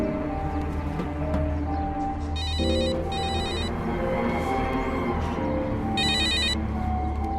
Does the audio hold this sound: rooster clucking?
no